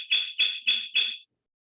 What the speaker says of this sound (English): And then those alarms start going beep,